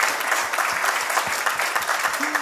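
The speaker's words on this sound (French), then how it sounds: "Bon, on les applaudit, hein." Audience applause at a French trading-method seminar, a dense, steady wash of many hands clapping together at close range, sustained at an even level with no voices over it.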